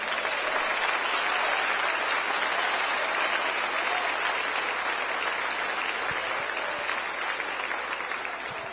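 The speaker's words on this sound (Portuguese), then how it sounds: "Você pode aplaudir o Senhor?" A church congregation applauds in a sustained, dense burst of clapping that fills the room and tapers slightly toward the end, with no voices over it.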